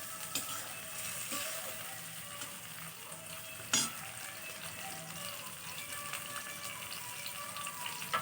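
Chopped tomato for a mutton curry frying steadily in a pan, a constant close sizzle with faint stirring scrapes and a single louder clack near the middle, with no talking.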